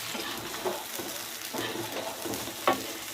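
Cooking oil sizzles steadily in a pan on a home stove, with occasional scraping and stirring knocks over the continuous frying hiss.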